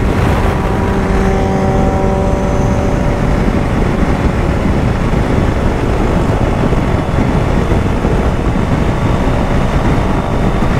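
A Triumph Tiger Sport 660 motorcycle ridden at high speed, heard from the rider's position as a loud, constant roar of wind rush and engine drone that fills the whole stretch without letup.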